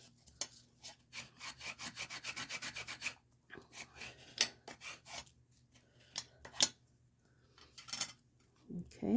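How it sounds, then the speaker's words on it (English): Bone folder burnishing paper on a handmade card, with repeated dry rubbing strokes in a steady back-and-forth rhythm, close and fairly quiet, then a few scattered scrapes. "Let's turn it over and give it a good burnish."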